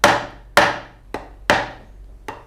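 A hammer strikes parts down onto the wood of a guitar under construction, giving five loud, sharp blows at uneven intervals, each ringing briefly.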